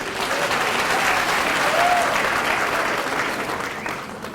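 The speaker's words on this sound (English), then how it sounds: "give yourself a round of applause for just being here today" An audience applauds steadily for a few seconds, a dense wash of clapping that holds its level and then begins to taper off.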